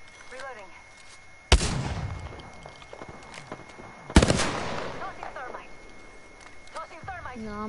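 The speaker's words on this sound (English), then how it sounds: "Opening fire. Getting shot at." Gunfire in a video game: two sharp, loud shots with ringing tails stand out over quieter background combat, while a voice calls out now and then.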